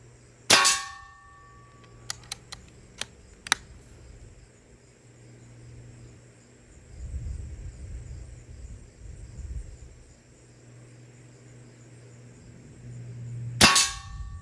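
Umarex Gauntlet 2 air rifle firing: two sharp, loud shot reports about thirteen seconds apart, each with a metallic clang, and a few faint ticks and a low rumble in between.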